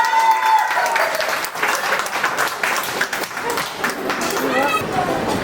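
Audience applause at a retirement ceremony honoring 38 years of service, a full crowd clapping loudly and continuously through the hall, mixed with some murmured chatter and voices underneath.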